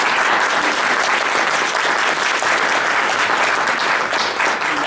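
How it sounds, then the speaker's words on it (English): A crowd applauds loudly and steadily, dense clapping filling the whole stretch without a break. "let's have a round of applause for the candidates."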